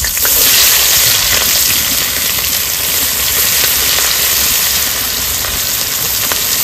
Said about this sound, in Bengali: তারপরে ওই তেলে ফোড়নটা দিয়ে দেবো।